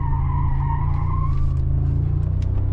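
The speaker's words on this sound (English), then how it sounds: "tires are squeaking" Tires of a 2025 Mercedes-AMG G63 on summer rubber squeal loudly while cornering, a sustained wavering screech over the steady low rumble of its V8 engine, close and continuous, with no voices.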